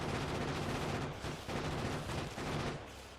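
Sustained automatic gunfire from a factory-building video game, a dense, loud rattle of rapid shots running almost continuously with only brief gaps, no talking over it.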